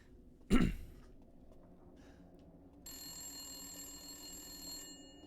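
In Resident Evil Village, a rotary telephone rings with a steady electronic trill that starts partway through and holds for about two seconds, after a single throat-clearing cough near the start.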